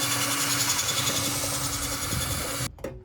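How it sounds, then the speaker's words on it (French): A power drill whirs steadily as it bores into a metal roof during a solar panel installation, loud and close, then cuts off abruptly near the end. "essayez de changer l'angle de la drille un peu pour que le métal soit moins coupant"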